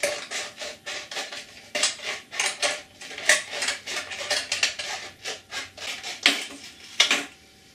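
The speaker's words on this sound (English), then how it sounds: "We like to trim it just a little bit off the line to make sure that we don't cut too much off." A water rocket fairing is trimmed along a marked line. Close, quiet scraping and cutting strokes repeat in an uneven rhythm with no talk.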